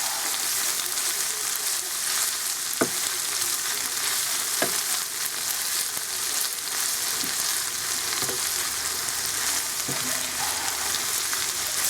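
Beef and onion fry in a pan with a steady, loud sizzle that fills the whole stretch. Occasional scraping knocks come from the stirring, and no one speaks.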